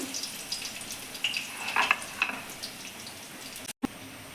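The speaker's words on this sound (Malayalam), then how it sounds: "അതിന് ശേഷം നമ്മൾ എടുത്ത് വെച്ചിരിക്കുന്ന വെളുത്തുള്ളി നമ്മൾ അതിനകത്തേക്ക് ഇട്ട് കൊടുത്തു" Garlic frying in coconut oil in a pan, a soft close sizzle with light stirring clinks and a few brief brighter crackles, ending in a short dropout.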